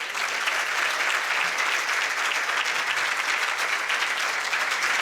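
Sustained, loud applause from an audience at a Murti Pratishtha Mahotsav religious gathering in Melbourne, greeting the swami, a dense steady wash of clapping filling the whole span without a break.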